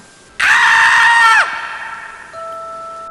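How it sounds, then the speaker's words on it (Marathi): A woman's loud, sustained high-pitched scream as a horror-story sound effect, about one second long and close, followed by a fading eerie tonal drone. "जोरात स्नेहाचा ओरडण्याचा आवाज आला"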